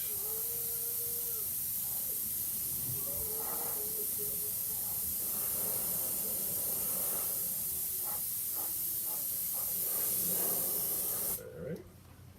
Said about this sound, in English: All right, so I'm gonna spray a little bit more of this stuff on here.